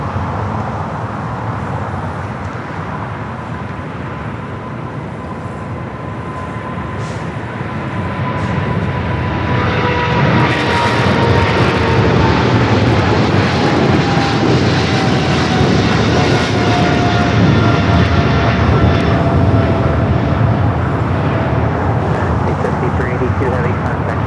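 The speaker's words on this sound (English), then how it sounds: "that 777 freighter now rolling down to 25 left" A Boeing 777 freighter rolls down runway 25 left, a broad steady engine roar that swells and holds loud, with someone talking over it throughout.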